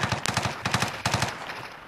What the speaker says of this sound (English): He's fucking getting me with that fucking sentry gun, bro.